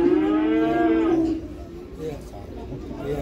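Cattle at a livestock market, with a loud, close, drawn-out moo for over a second, then quieter market bustle with a voice talking in the background.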